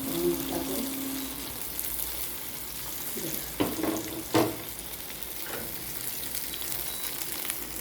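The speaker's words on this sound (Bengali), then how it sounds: "এভাবে একটা একটা করে দিয়ে ভাজা হবে।" A steady, moderate sizzle of taro leaf and chickpea lentil fritters frying in oil, added one by one, runs throughout, with a few brief clinks and thumps partway through, no talking.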